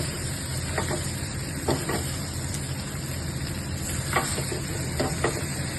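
Yellow potato bhaji being stirred and fried in a pan, with a steady soft sizzle and scattered scraping stirs close by, and no talking.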